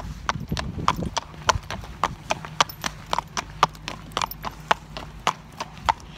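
A horse's hooves clip-clop at a steady walking rhythm, close and distinct, with roughly two crisp strikes per second. A low rumble of movement sits under the early beats.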